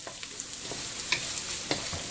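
Onion frying in a pan for vegetable Manchurian on medium-high heat, a steady soft sizzle running through with faint stirring scrapes and small clinks, close and moderately quiet.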